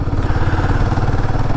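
A Royal Enfield Guerrilla 450 motorcycle on a long highway ride, its engine giving a steady, loud low rumble with continuous road and wind noise and no talking.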